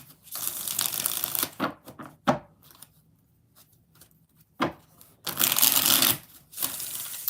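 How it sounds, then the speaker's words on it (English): A deck of tarot cards shuffled by hand up close, riffling bursts at the start and again near the end, with scattered taps and quieter handling in between. "5 shuffles for Monty because she's been seeing movement."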